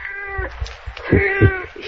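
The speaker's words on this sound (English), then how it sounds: "You seem to have such a great affection for that cat, Mr. Wake." A cat meows repeatedly indoors, two drawn-out tonal calls with harmonics followed by shorter, louder cries, close to the listener with no talk over them.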